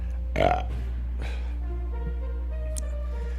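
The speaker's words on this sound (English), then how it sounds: "My burps don't stink." One short, deep burp close up, then quiet with faint background hum.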